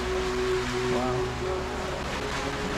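The River Sheaf flows through a tunnel beneath Sheffield Station, a steady, close watery rush echoing under the platforms with a faint low hum running beneath it.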